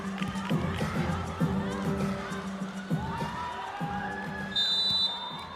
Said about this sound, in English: And the crowd thoroughly enjoyed that one.